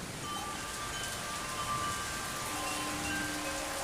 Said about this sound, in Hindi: ये बारिश यूसुफ के वजूद बाबरकत की वजह से बरसी है।